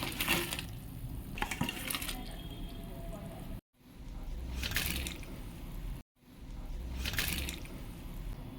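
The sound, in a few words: gravy bubbling as fried potatoes are added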